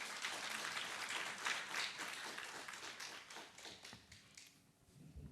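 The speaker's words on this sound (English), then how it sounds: "Help me welcome them with another round of applause." A conference audience at a cybersecurity event in Namibia applauds a panel. The clapping is dense and fairly loud, then thins out and fades toward the end.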